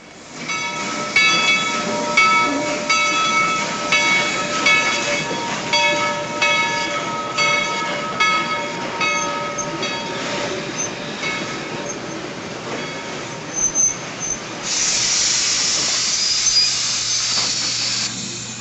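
A train rolls past nearby with a loud, steady rumble, metallic squeals and rhythmic clacking; a high hiss rises near the end.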